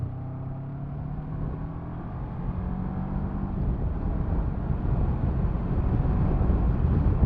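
Honda CB500X motorcycle engine pulling in third gear, a steady low rumble that builds gradually in loudness with rising wind roar, heard alone with no talk.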